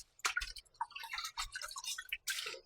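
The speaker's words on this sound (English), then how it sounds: "I'm going to wash the rice twice to get out the starch." Uncooked rice being rinsed by hand in water to wash out the starch before cooking Jamaican rice and peas, with soft irregular splashing, swishing and dripping close by, no talking.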